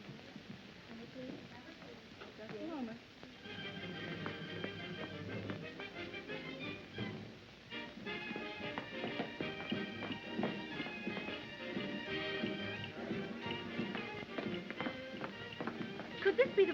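Horses' hooves clip-clop in a light rhythm in a 1944 comedy film, moderately quiet and partly buried under bright orchestral music and voices.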